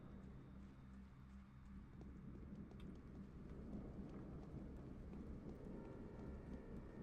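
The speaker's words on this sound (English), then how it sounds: "I think that's the sound of rain coming in" Steady rain hissing and pattering in a video game, a continuous broadband wash that swells slightly over the seconds, with low rumbling underneath and no voices.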